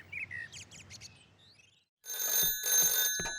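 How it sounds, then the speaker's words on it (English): A few light birdsong chirps fade out, then a telephone bell in Pat's village house rings loud and close in rapid repeated bursts. "the phone rang in Pat's house"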